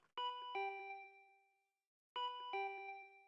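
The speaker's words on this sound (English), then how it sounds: "My body reacted reflexively as I heard the doorbell." Two rings of a ding-dong doorbell in Danganronpa V3, each a clear two-tone chime with a long ringing tail, separated by a short silence.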